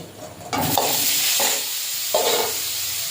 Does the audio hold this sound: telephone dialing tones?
no